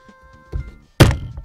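A skateboard bearing and spacer are knocked by hand into a longboard wheel, giving two dull thunks, a softer one then a sharp loud hit about half a second later, close up and alone.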